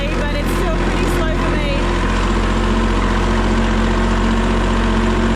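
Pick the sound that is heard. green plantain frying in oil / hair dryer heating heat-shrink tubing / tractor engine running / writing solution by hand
tractor engine running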